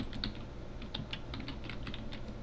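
Steady fast typing on a computer keyboard entering text into a program, with even, close key clicks throughout a short burst and no voices.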